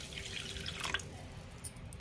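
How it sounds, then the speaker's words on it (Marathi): Water is poured a little at a time into frying masala in a pan, giving soft dripping and trickling splashes with a brief louder splash near the middle, all fairly quiet and with no talking. "मसाल्याला तेल सुटलं की यामध्ये थोडंसं पाणी घालायचं आहे."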